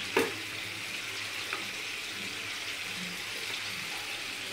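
Potato and pointed gourd pieces fry in oil in a pan, a steady close sizzle with a brief clatter at the start as they go in.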